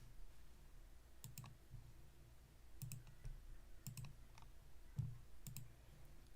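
Rapid computer mouse or button clicks come in short bursts of several clicks, close and fairly quiet, repeating every second or so over a low background hum.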